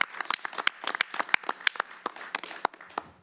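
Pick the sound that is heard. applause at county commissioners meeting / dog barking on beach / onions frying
applause at county commissioners meeting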